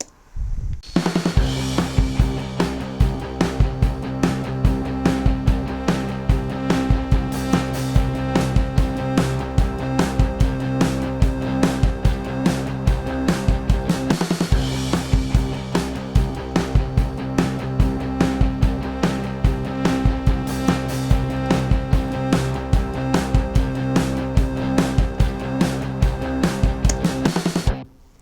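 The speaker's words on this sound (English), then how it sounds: "Just some drums on a rock song." A rock drum kit plays a steady beat with punchy kick and snare hits, loud and continuous, with a brief break in the middle.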